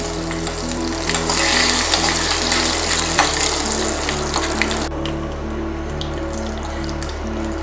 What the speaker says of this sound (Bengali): ফোড়ন ভালো করে ভাজা হয়ে গেছে।